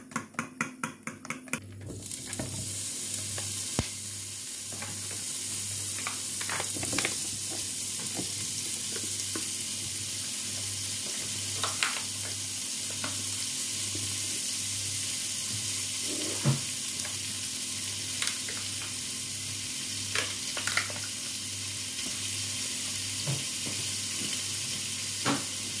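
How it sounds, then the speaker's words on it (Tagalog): Pork cheek sizzles steadily in a hot pan while being sauteed for carbonara, with occasional sharp clinks and scrapes of a utensil stirring against the pan; no talking. "Sauteed na yung pisngin ng baboy."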